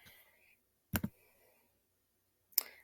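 Computer mouse clicks while working in Google Drive: a quick close double click, then a single sharp click after a quiet pause, faint and alone.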